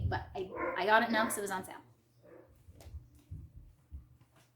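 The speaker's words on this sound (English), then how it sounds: "I'm so sorry about the barking" A dog barks in short bursts behind someone talking close by, the yaps continuing faintly in the pauses after her voice drops off.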